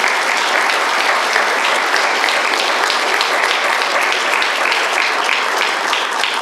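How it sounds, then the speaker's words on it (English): An audience at a family stories festival gives loud, sustained applause, dense clapping filling the room evenly from start to finish with no speech over it. "We have to clap for everyone."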